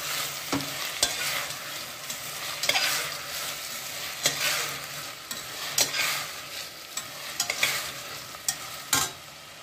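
Potatoes and carrots sauté with tomato in a pan for rice dal masala kichadi, with irregular scraping stirs and clanks over a soft, constant sizzle and no voices.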